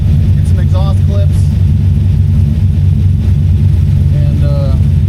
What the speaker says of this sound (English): Get some exhaust clips.